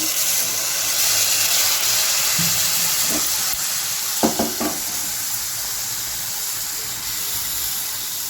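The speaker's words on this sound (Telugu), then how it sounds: "కొంచెం వాటర్ వేస్తున్నామండి పన్నీర్లో." Paneer sizzling in a pan as water is added, for a paneer dum biryani: a steady broadband hiss and crackle holds throughout, with a few brief louder spits and bursts near the middle.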